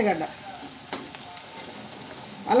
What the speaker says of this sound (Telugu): ఎల్లిగడ్డ మంచిగా గోలాల, పచ్చివాసన పోయేదాకా గోలాల అల్లం ఎల్లిగడ్డ.